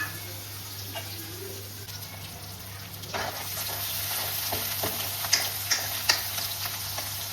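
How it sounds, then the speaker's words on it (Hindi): Fenugreek seeds and chopped onion sizzle in hot oil in a home kitchen, a steady close frying hiss with faint clinks and stirring sounds, plus a low hum underneath. "यहाँ तेल में थोड़ी सी दाना मेथी तड़काई है"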